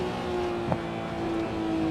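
A Nissan Skyline GTR R34 held at full throttle while climbing at the Nurburgring in the Assetto Corsa racing game, a steady high engine drone holding one pitch throughout with a brief blip near the middle.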